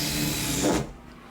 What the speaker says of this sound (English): Just basically screw them into the wall, and then whenever you put your screws in there, it expands them.